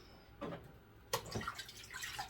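Water drips and splashes near a bucket of water while an orchid is rinsed, with a few distinct wet drops and splatters rising above a quiet room background.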